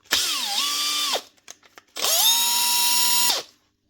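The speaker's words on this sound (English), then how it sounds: "And she's getting on the drill." A Makita cordless drill whirs in two bursts, revving up with a rising pitch and holding steady, separated by a brief pause with a few small clicks.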